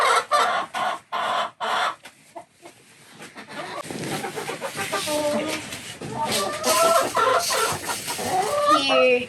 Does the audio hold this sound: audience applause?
no